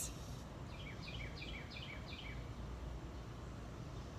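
Birds sing outdoors in a short series of quick, repeated chirps early on, faint and somewhat distant, over a steady low background hum.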